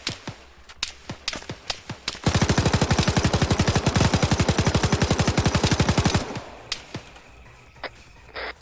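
Rapid automatic gun firing high-explosive rounds in ArmA 3, a long sustained burst of loud evenly spaced reports framed by scattered single shots and distant gunfire before and after.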